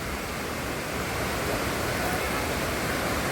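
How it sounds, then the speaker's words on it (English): Hat Yai waterfall rushing close by, a constant loud broadband roar of falling water with no breaks and no voices. "Wow, amazing. It's a real waterfall."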